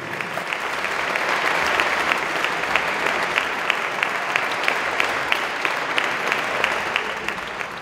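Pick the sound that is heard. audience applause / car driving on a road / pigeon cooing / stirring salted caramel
audience applause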